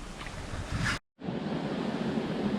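Steady roaring rush of water falling over a beaver dam, broad and continuous, briefly cut to silence for a moment before resuming just as loud.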